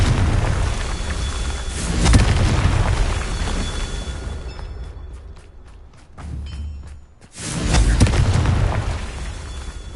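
Confringo spell blasts in Hogwarts Legacy erupt as repeated loud, booming explosions with crackling debris, a brief lull midway, then another heavy burst.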